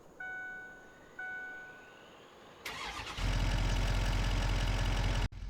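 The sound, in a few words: truck engine starting and idling, Farming Simulator 25 video game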